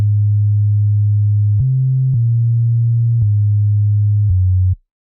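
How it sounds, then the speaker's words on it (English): An FL Studio bars synth preset plays a simple melody of about five sustained, clean tonal notes, each held roughly a second with smooth steps in pitch, loud and alone with no voices. "So the bars which I've used is this one from FL Studio."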